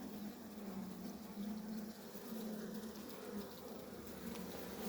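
Honey bees hum softly and steadily at an open hive of three frames, a colony weakened by poison, with a faint continuous drone and no voices.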